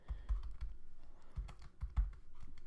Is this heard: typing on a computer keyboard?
yes